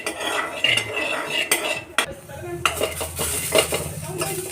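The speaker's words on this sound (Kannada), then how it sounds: "ಇದು ಸ್ವಲ್ಪ ಎಣ್ಣೆ ಹಾಕ್ಕೊಂಡು ಈ ಥರ ಹುರಿದಿದ್ದೀನಿ." Turkey berries roast in a little oil in a pan, with a metal utensil clinking and scraping against the pan in irregular bursts over a light sizzle, close up and with no talking.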